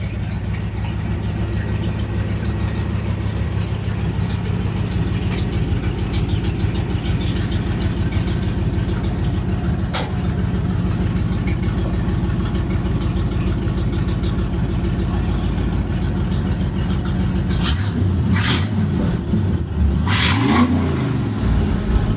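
A Ford Ranger engine with a modified exhaust, header into a 2.5-inch collector then out to 3-inch pipe, rumbles at a steady loud idle, then revs sharply a few times near the end.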